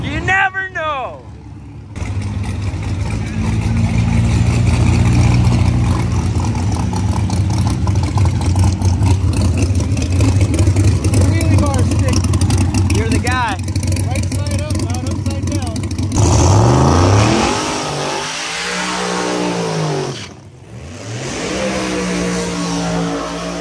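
Drag racing cars at Bandimere Speedway, a loud sustained engine roar with rising revs and a shift in pitch near the end, with voices mixed in.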